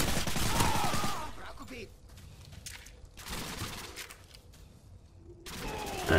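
Bursts of automatic gunfire in Call of Duty Modern Warfare 2 multiplayer, loud rattling volleys separated by quieter gaps, with shooting through walls.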